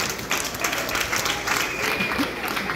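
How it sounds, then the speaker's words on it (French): A school crowd applauds at an exam results announcement for the kindergarten section, dense continuous clapping that fills the room, with voices mixed in. "Nous acclamons quand même pour le maternel."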